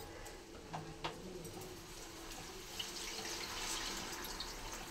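Soaked tamarind extract is poured into a pot, making a soft, steady trickle of liquid with faint clicks and a few bird calls in the background.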